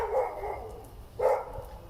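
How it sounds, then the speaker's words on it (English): Dogs barking in the distance, two faint, muffled bursts roughly a second apart against a quiet background. "I was looking to make sure he didn't react to the dogs barking."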